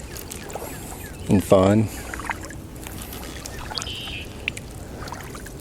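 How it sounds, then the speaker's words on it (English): A kayak paddles over calm, currentless water in a wildlife refuge, with soft, faint dripping and swishing strokes under a steady outdoor hush, while a person briefly speaks near the middle. "which is where I do a lot of my paddling because it's convenient and beautiful"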